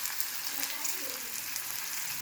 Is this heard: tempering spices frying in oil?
yes